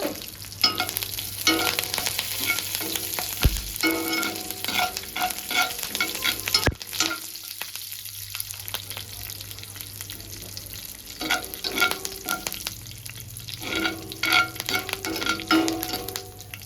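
Two sprigs of curry leaves are dropped into hot oil for a tempering that goes into a peanut chutney. There is a crackling sizzle up close, with spoon stirring and scraping that comes and goes, and one sharp clack partway through.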